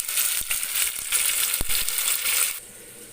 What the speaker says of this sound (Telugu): ఆయిల్ హీట్ ఎక్కింది కదండి మనం పుదీనా కొత్తిమీర పుదీనా ఉల్లిపాయలు పచ్చిమిరపకాయలు అన్నీ వేసేస్తున్నాం